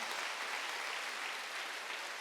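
A church congregation claps steadily at a Wednesday worship service, a dense, even wash of applause at moderate distance that holds without breaks.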